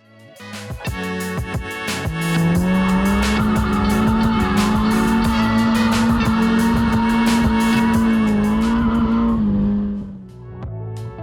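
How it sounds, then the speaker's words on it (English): A stock Mazda Miata slides through a sustained drift at its first drift event, a loud, steady tire squeal holding for about eight seconds over engine noise before fading out. "I hope you enjoyed some of my drifting from my first drift event."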